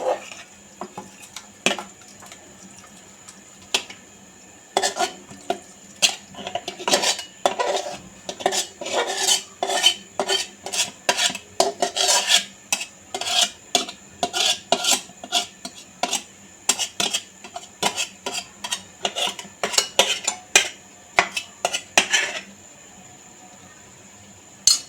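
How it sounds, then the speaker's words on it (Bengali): Chicken is tipped and scraped from a pan into a pressure cooker with a metal utensil, giving repeated close metallic clinks, knocks and scrapes in irregular bursts for about twenty seconds, with no talking. "আমি প্রেসার কুকারে ঢেলে দিচ্ছি।"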